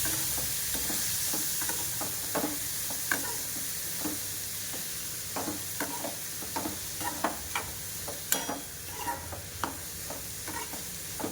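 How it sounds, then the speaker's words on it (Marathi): Soaked kurdai being stirred into an onion masala in a pan, with a steady low sizzle of frying and repeated sharp scraping and clacking strokes of a spoon against the pan, close up. "छानपैकी मिक्स करून घ्यायचे आहे"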